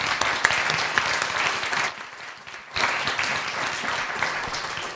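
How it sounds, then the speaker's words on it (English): An audience at an aviation and tourism leadership panel applauds, producing dense, loud clapping that eases briefly around the middle, then swells again and continues strongly. "a round of applause to our panel."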